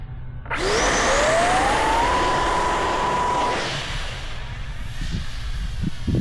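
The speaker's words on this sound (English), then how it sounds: "It's one of my easiest planes to launch" Close and loud, a radio-controlled model jet whines as it launches on a bright sunny test day, its engine pitch sweeping upward and then holding steady before fading into a lighter background rush as the plane pulls away.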